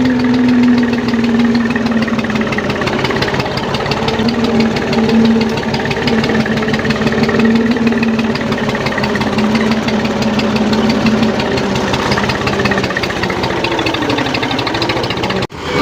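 A tractor engine runs steadily at a close, loud idle with a rhythmic knocking chug and vibration, unbroken for the whole stretch before cutting off abruptly at the end.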